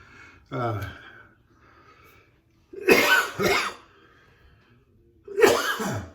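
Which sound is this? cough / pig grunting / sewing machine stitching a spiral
cough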